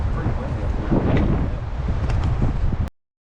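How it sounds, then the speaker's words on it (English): Strong, gusty wind on a clifftop trail in West Virginia's New River Gorge buffets the microphone in a steady roar, cutting off abruptly near the end. "Wow, it's pretty windy up here."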